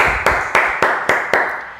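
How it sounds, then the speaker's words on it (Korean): A church congregation claps together in a steady rhythm after a prayer, six sharp, echoing claps in quick succession. "주께 감사와 영광의 박수 올려드리겠습니다."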